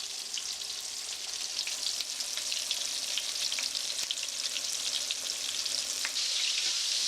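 Flattened pork tenderloins fry steadily in a pan, a dense continuous sizzle with scattered sharp pops and crackles running evenly throughout.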